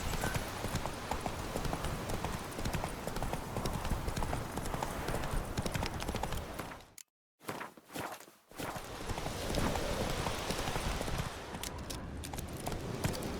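Horse hooves clip-clop in a steady, close, rhythmic gait while galloping through the video game The Witcher 3. The hoofbeats break off for a moment, then resume at the same pace.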